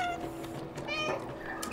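A cat in the Stray video game meows, giving a couple of drawn-out, tonal mews over quiet game background sound.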